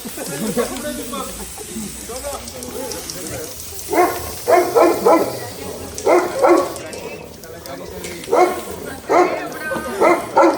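A dog barks in bursts of two and three sharp, loud barks, spaced every second or two over a noisy background, after a stretch of people talking.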